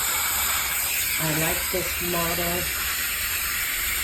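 A Bissell 1806 steam mop gives off a steady, close hiss of steam that runs unbroken throughout the clip, while a person briefly speaks over it.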